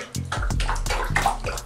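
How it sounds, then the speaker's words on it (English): Water sloshes in a bathtub as toes push small waves, a few soft rhythmic splashes and swishes heard up close over a short moment. "I figured out how to make waves with my terribly unpainted toenails."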